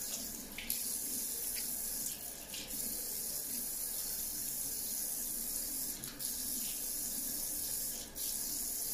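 Running water from a sink tap splashes steadily while hands rub and wash a face, with a few brief pauses in the flow and no talking.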